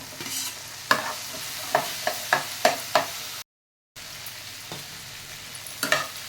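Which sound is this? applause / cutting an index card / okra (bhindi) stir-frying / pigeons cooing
okra (bhindi) stir-frying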